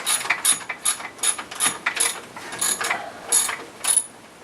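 A ratchet wrench turning a bolt to remove the starter from a VW Jetta diesel, with quick bursts of sharp metallic clicking in uneven groups and short pauses between strokes, close and alone.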